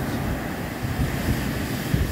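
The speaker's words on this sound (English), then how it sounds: "But the sand, the beach, the waves, the sound are absolutely incredible." Ocean waves washing onto a rugged, rocky beach at Ajuy on Fuerteventura, a steady broad surf roar with some wind noise and no talk.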